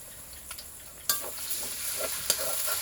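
Lightly browned onion fries with ginger-garlic and cumin paste, giving a low steady sizzle punctuated by two sharp stirring scrapes and a few softer spoon sounds.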